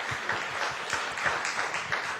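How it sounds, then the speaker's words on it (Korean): Congregation applause at a church gathering, a steady wash of clapping that continues at moderate loudness throughout, with no speech over it. "박수 한번 일단 쳐주시면 좋겠습니다."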